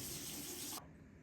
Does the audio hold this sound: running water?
yes